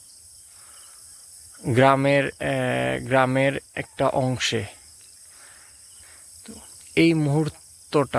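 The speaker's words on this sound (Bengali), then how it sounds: "এর মধ্যে ঝিঝি পোকার" Crickets chirp in a village just after dawn prayers on a foggy, cold morning, a steady high-pitched trill running through the whole stretch beneath someone talking at intervals.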